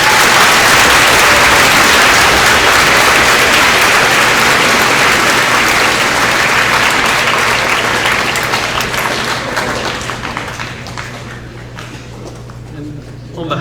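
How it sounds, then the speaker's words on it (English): Sustained applause from a large crowd at a school Veterans Day assembly, loud and dense at first, then slowly thinning and fading toward the end. "Let's give them all a big round of applause."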